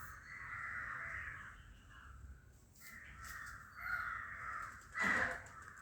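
A crow caws in a few drawn-out, harsh calls near a songbird's nest outdoors, moderately close, with short gaps between the calls and a quiet background.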